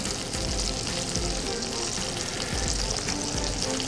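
Jumbo shrimp fry in a hot pan, giving a loud, dense, continuous sizzle with faint low knocks underneath, close up and with no talk.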